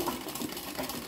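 An embroidery machine stitching shading on a table runner, a continuous fast mechanical whir with a steady rhythmic pulse, close and even throughout.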